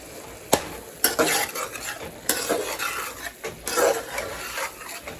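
Keema with spices is stirred in a frying pan, with a spoon clinking and scraping against the metal in irregular bursts over a steady sizzle.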